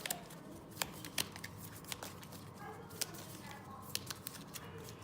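Cards for a board game draw pile are shuffled by hand at a table, giving a run of light, quick snapping flicks and riffles with scattered sharper clicks over a soft, steady background.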